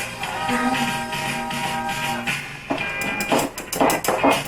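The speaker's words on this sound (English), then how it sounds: "Whisk this together. This is like the biggest whisk in the world." A large whisk beats cupcake batter ingredients in a very small bowl, giving a run of quick tapping clatters against the bowl that grow sharper and more rhythmic toward the end, close by over steady kitchen background.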